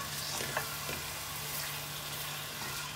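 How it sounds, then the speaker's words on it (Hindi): Beef fries with garlic ginger paste in a karahi, an even, close sizzling hiss with small pops and light stirring scrapes, moderately quiet and without talk. "यहाँ पर मैं लहसुन अदरक के पेस्ट के साथ गोश्त को काफ़ी देर हो गई है भून चुकी हूँ।"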